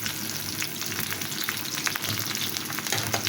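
Chopped onion, large-cut garlic and torn bay leaves fry in oil, a dense continuous sizzle and crackle with faint occasional stirring, close and steady, no voices.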